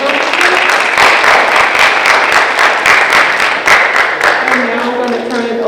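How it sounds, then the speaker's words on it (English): A school assembly audience applauds students for their honor roll accomplishments, a dense, steady round of clapping from many hands filling the room, with a voice emerging faintly near the end. "Let's give these students another round of applause for their accomplishments."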